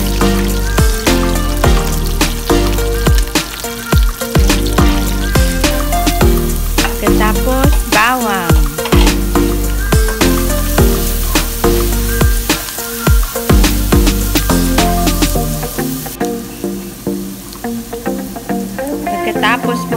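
Onion and curry leaves fry in hot oil, crackling and sizzling loudly and continuously with stirring clatter and scraping throughout, easing to a steadier sizzle near the end.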